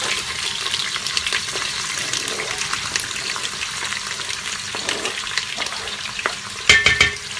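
Onions hiss and crackle in a hot pot, a dense, close sizzle with brief scraping and a louder clatter near the end.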